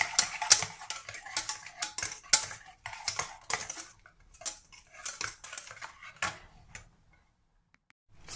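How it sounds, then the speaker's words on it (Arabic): A utensil stirs melting chocolate into a sauce in a pot, giving close, irregular clinks and scrapes against the metal in short bursts with brief pauses and no talk. "ودابا غادي نزيدو عليها داك الشوكولاط، غنبقاو نحركو مزيان حتى يذوب لينا"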